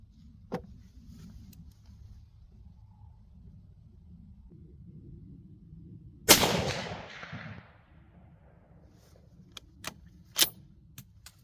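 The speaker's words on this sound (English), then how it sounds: "I'll fire that for a fouling shot, and then I will fire 5 rounds of AAC 150 grain Saber Defense" Single sharp rifle shot from an AAC .308 Winchester firing 150 grain Saber Defense ballistic-tip rounds, a loud close crack with a brief decaying tail, followed by faint clicks and small metallic taps over a low outdoor rumble.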